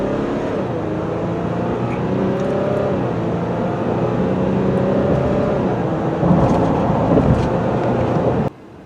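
A 2020 Ram 1500 diesel crew cab 4x4 pickup truck accelerates hard from a standstill, its steady engine drone rising in pitch through gear changes for about eight seconds, close and loud, with no talking.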